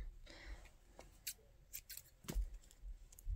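Scissors snipping yarn at a circular sock knitting machine, with a few quiet, close snips and light handling noises.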